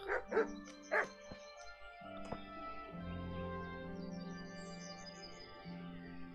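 A dog in the video game Kingdom Come: Deliverance barks a few quick times close up, then game music with sustained tones takes over.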